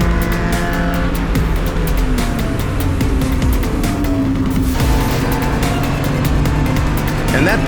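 An SCCA club race car roars past at speed on a road-racing track, engine loud and close, with a brief tire squeal and continuous track noise throughout.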